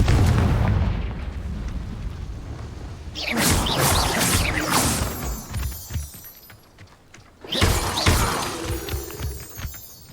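Confringo fire spells blasting in Hogwarts Legacy, two loud bursts with crackling debris and rumbling tails, spaced a few seconds apart over a low rumbling battle din.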